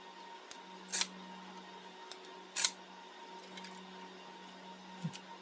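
A cheap pair of household scissors snaps shut with two distinct crisp metallic clicks, one near the start and one midway, followed by a fainter third click, over a quiet steady background hum.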